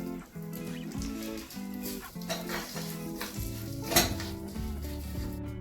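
Steady sizzling of tempering spices and dried Byadgi chillies in hot oil with occasional clinks of a utensil against the pan, close and continuous.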